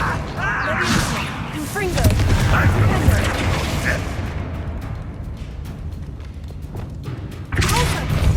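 In Hogwarts Legacy, a Confringo explosion spell goes off as a heavy, booming blast, followed by rumbling thuds and clattering impacts that gradually thin out before another burst of noise near the end.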